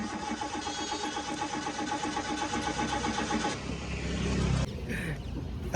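Car engine cranked and started by a mechanic after petrol was added, a rough rattling mechanical churn that continues, swells into a louder low rumble, then cuts off abruptly.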